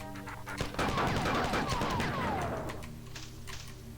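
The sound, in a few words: enemy explosion and gunfire in the video game Marathon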